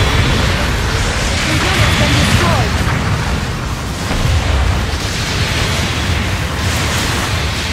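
A destroyed mobile suit explodes in a Gundam video game, giving a loud, dense roaring blast with rumbling bursts that sustain for several seconds.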